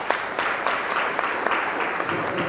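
Applause greets the launch of a national youth climate change conference at the University of Parakou, a steady wash of clapping from a crowd with a few sharper claps standing out, continuous through the moment.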